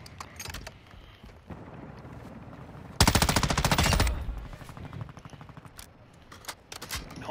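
Gunfire in Call of Duty DMZ, a loud sustained automatic burst of about a second standing out between scattered single shots and softer game noise.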